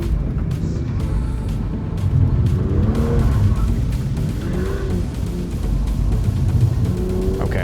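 An autocross car's engine revs and rises in pitch through repeated bursts of acceleration, loud and close, with tire noise mixed in and no talking.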